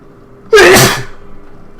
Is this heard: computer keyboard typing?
no